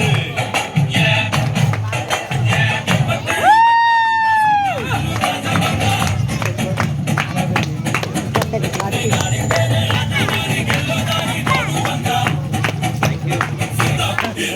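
A crowd at a car launch event in Muddebihal, Bijapur, claps loudly in a dense, continuous patter, with a short rising whistle-like tone near the start.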